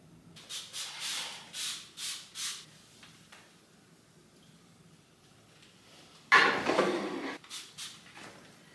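A cloth is rubbed over the glass of French doors in a back room, giving a series of soft rhythmic squeaky wipes, then a louder burst of rubbing after a pause, close and alone.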